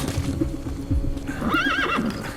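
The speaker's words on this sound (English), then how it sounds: "Let's get this horse." A horse in Metal Gear Solid V: The Phantom Pain whinnies loudly while hooves clatter in quick rhythm underneath.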